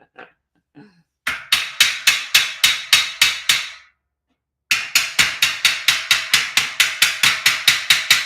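Hammer blows driving steel shelving unit parts together during assembly of a 5-shelf steel rack: a quick run of sharp, loud, evenly spaced metallic strikes, a brief pause, then another long steady series, with no talking.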